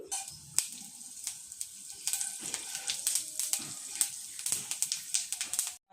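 Panch phoron seeds frying in mustard oil in a kadai, a soft steady crackle and sizzle with scattered sharp pops throughout, fairly quiet and alone.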